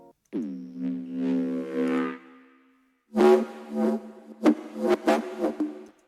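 Synth bass preset for dark liquid drum and bass in FL Studio, a low sustained tone sliding in for about two seconds, a short gap, then a brighter, punchier phrase with sharp accents and rhythmic hits, played alone with no voices.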